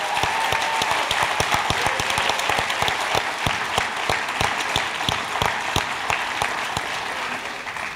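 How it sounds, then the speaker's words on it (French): Audience applause fills the hall at a regional Cégeps en spectacle final, a dense, steady wash of many hands clapping with sharp individual claps standing out, sustained loudly for the full stretch. "Je crois qu'ils méritent une bonne main d'applaudissements."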